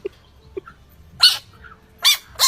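A dog playing with a frog lets out a few short, sharp barks at close range, one single and then a quick pair, with quiet pauses between.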